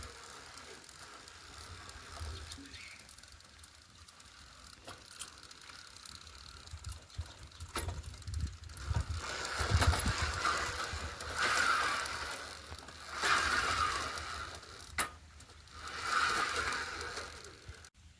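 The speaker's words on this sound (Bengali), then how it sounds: "এই যে সাইকেলের চাকাটাকে ঘুরিয়ে ঠিক করে দেখে নিচ্ছে ভাই" A bicycle's rear wheel, freshly oiled with used engine oil, spins by hand. Its freewheel ratchets in repeated whirring, clicking bursts that swell and fade as the wheel is turned again and again, close up and with no talking.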